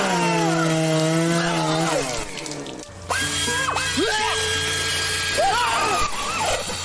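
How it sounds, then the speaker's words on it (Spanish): A chainsaw in the video game Lone McLonegan whines loudly with rising and falling revving pitch, cutting out briefly before a second burst with sweeping squeals over a steady low drone. "Motosierra, ala."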